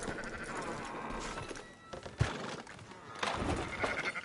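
Sheep bleat at a ranch in the video game Red Dead Redemption 2, a few quiet, wavering calls that stand out over soft ambient background noise.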